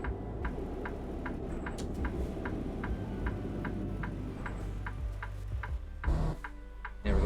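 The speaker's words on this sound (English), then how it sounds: "There's at least one extremely loud cricket right outside my window." A loud cricket chirps just outside a window in an even, rhythmic series of short pulses over a low, steady engine drone, with a few louder rustling bumps near the end.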